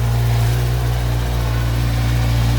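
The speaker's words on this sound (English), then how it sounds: "Just kill the engine." A car engine idling up close after LED daytime running lights were fitted, giving a loud, steady low hum with an even tone and no revving.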